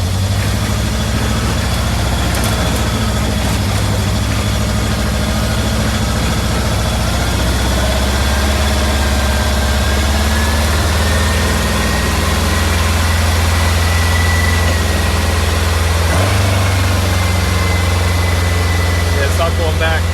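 A VW Beetle engine runs steadily at a raised speed without dropping back to idle, a continuous low rumble with a faint whine, close by and loud throughout with a voice heard over it.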